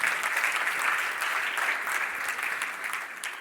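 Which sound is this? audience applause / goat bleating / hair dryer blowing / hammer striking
audience applause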